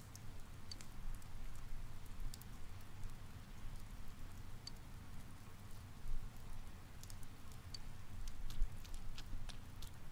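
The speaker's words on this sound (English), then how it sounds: "So it's raining" Steady rain in the video game Persona 4 Golden, a soft, continuous hiss with scattered light drop ticks, faint and even throughout with no voices.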